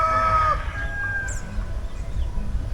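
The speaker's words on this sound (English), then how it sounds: "there's a lot of roosters" Several roosters crowing outside a hotel window in La Laguna, Colombia, one long crow up front and fainter distant calls and clucks after, over a low outdoor background.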